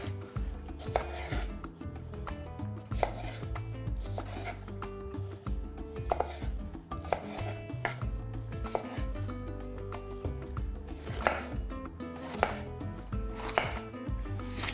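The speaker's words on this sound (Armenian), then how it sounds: "Կտրատում ենք ոչ մանր։" Sweet peppers are cut coarsely with a kitchen knife, crisp blade strikes against a cutting board landing in quick uneven runs, near and steady without any voices.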